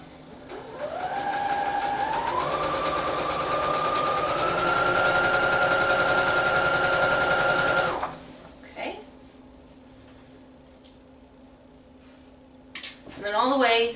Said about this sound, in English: we're just going to pull it taut and stitch it to the next pin